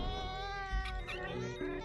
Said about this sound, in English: Wee cat.